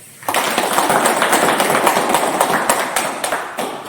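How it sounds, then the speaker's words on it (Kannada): An audience at a gathering bursts into applause on request, a sudden onset of dense, close clapping that holds steady for several seconds and then thins slightly toward the end. "ಒಂದು ಚಪ್ಪಾಳೆ ಬಿಡಬೇಕು"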